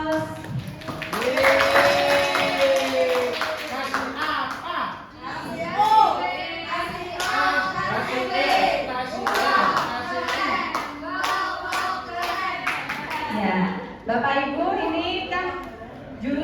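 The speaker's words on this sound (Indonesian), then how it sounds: "untuk teman-teman semua aplaus" An audience breaks into clapping at a teachers' good-practice sharing session, with scattered voices and chatter mixed through the steady, moderately loud applause that carries on for most of the stretch.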